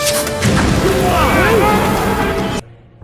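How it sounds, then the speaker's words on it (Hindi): A loud explosion strikes a palace in the Turkish historical TV drama Kurulus Osman, a heavy crashing blast layered with dramatic score and voices, cutting off abruptly near the end. "फिर तभी वह शख्स महल पर जोरदार धमाका कर देता है"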